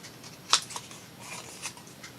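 Scissors snip through a fabric pocket, with one sharp close cut followed by a few softer snips and rustles, quiet and without talk.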